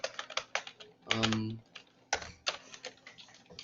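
Code is typed on a computer keyboard in quick, close, irregular bursts of keystrokes, briefly interrupted by a short voice partway through before the clicking resumes.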